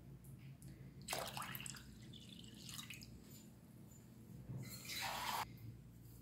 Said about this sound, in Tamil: இப்போ இதில் வந்து 4 டம்ளர் தண்ணி ஊற்றி நான் வச்சுருக்கேன்